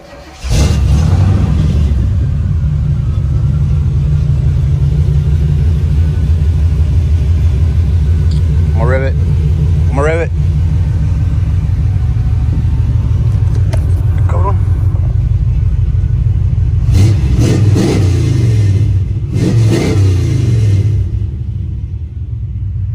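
Chevrolet 454 SS V8 in an OBS truck with a Flowmaster 44 series exhaust, idling with a loud, deep, continuous rumble and several short throttle blips, while people talk briefly over it.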